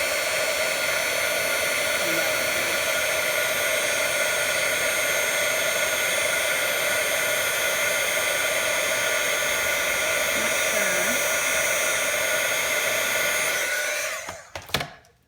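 An electric heat tool used on embossing powder on a handmade card gives a loud, steady whirring blow for about fourteen seconds, then cuts off abruptly with a brief clatter.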